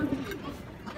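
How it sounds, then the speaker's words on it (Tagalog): Pigeons coo softly with low, throaty murmurs inside a loft amid faint background noise, brief and close. "nandito na yung mga ibon ko sa loob"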